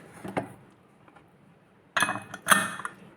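A metal vent weight is set onto the lid of a pressure cooker, giving two short metallic clinks a moment apart against a quiet kitchen background.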